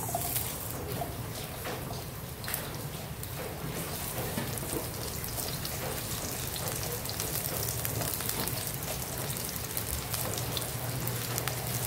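Steady rain pattering down throughout, a dense hiss that may blend with oil sizzling in a pan while Lechong Paksiw is being cooked, continuous and fairly loud with no pauses.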